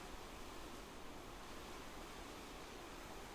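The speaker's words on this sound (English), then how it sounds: "I looked down at the river, flowing below." Steady, loud rush of a flowing river, broadband and unbroken, heard as ambient sound in the video game Mamiya with no voices or other events.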